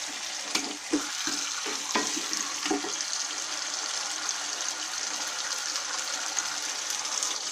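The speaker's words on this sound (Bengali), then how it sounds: "এখন এই আলুটাকে দিয়ে তাহলে কষিয়ে নিতে হবে আপনার।" Potatoes sizzle in hot oil as they are stir-fried for a fish head curry. Steady frying hiss runs throughout, with a few clanks and scrapes of the spoon early on.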